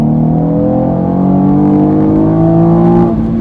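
Loud, close 2016 Chevrolet Camaro V6 with a six-speed manual, revving steadily up toward 7,000 RPM in second gear as its pitch climbs throughout.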